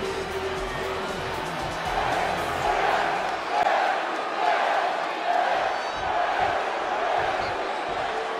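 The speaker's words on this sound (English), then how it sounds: "Sounds to me like the crowd is more than ready for this one." Crowd noise in a WWE wrestling video game, a continuous roar of cheering arena fans with swells, heard alone without talk.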